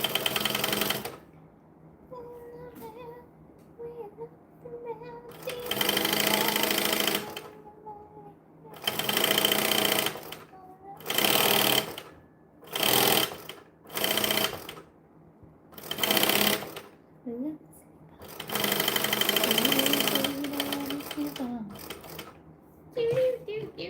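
A sewing machine stitches a bag in a series of short, loud bursts separated by pauses, with a long run near the end and some talking in the gaps.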